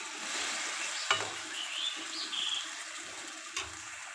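Boiled papaya tipped into a pan for Bengali papaya shukto, with soft sizzling and stirring scrapes, a couple of sharp clinks from the utensil, heard close and alone.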